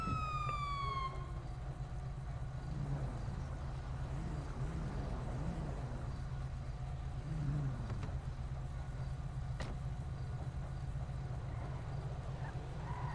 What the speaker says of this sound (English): press left alt to keep your siren continuously on